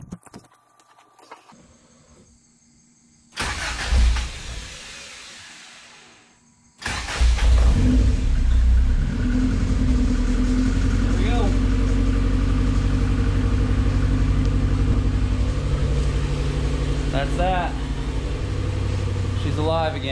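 Car with newly fitted AN fittings and steel braided fuel line cranking over, catching, then settling into a steady loud idle that runs on up close after a few quiet clicks and a brief starter burst.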